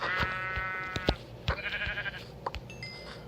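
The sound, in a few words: sheep bleating in the video game Minecraft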